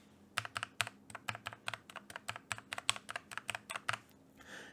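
Quick, steady typing on a mechanical keyboard with linear red switches, rendered as a fast run of soft, even key clacks, close and fairly quiet, with no talking.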